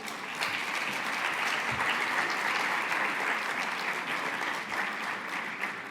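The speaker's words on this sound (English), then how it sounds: "Let's give him a really big applause." Conference audience at ICAN Dubai 2023 applauding, a broad sustained clapping from many people heard at moderate distance, even and continuous with no voices over it.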